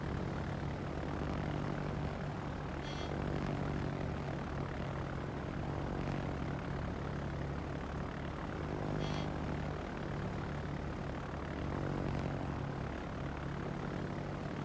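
Propeller-driven torpedo bombers in a naval combat video game drone steadily with a continuous engine hum, holding at a fairly even level without speech.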